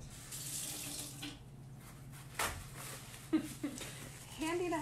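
Water runs from a sink faucet next to a crafting workspace in a steady stream, with a few knocks and splashes of hands or objects under the flow and faint voices nearby.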